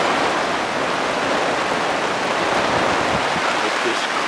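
Steady evening rain pours down at an outdoor fall festival beside a creek, a dense, loud, even hiss with no breaks or voices.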